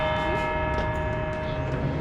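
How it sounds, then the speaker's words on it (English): Church bells ring with sustained, overlapping resonant tones, steady and fairly loud, with no voices. "It's got beautiful bells."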